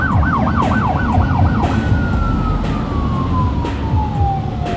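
An LAPD emergency vehicle siren passes on the driver's left, cycling rapidly at first and then settling into a long, slowly falling wail. It sounds loud and steady over constant traffic rumble.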